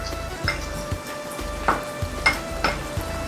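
Prawns and squid are stir-fried in a hot pan for seafood mee goreng. A steady sizzle runs under sharp, irregular clinks and scrapes of a utensil against the pan.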